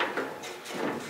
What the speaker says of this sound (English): Well, the door's shut.